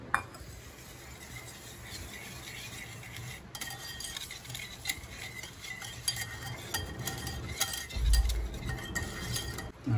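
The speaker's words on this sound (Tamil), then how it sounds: "2 ஸ்பூன் அரிசி மாவு இது கூட கலந்துட்டு இப்போ பால் கொஞ்சமாக ஆட் பண்ணி இதை நல்லா கரைச்சிக்க போகும்" A spoon stirs sugar and rice flour into milk for Tirupati laddu batter, giving steady soft scraping and light clinks against the vessel, close and quiet, with a brief louder knock near the end.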